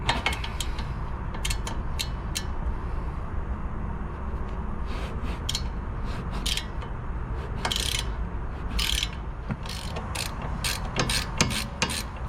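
A 19 mm wrench works loose a suspension bolt on a car being checked for a clunk, giving close, steady ratcheting clicks in irregular bursts over a constant mechanical rasp, with no one talking.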